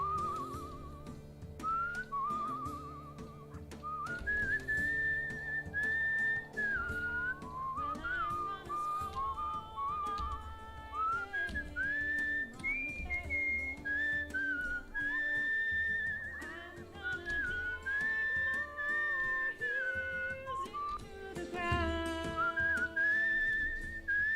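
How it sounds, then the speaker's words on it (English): Melodic whistling from a minigame in the video game Where the Water Tastes Like Wine, a clear wavering tune that runs for over twenty seconds over soft background music, with no talking. "I don't know why they don't just keep this going as long as you're holding the whistle button"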